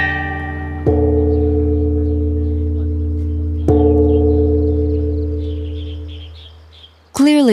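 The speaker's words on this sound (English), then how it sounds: "The melody is played on the top bells, the accompaniment on the giant bells below." Ancient Chinese bronze bells ring out, two deep bell strikes with long sustained, slowly fading resonance, melody on the smaller upper bells and accompaniment on giant lower bells.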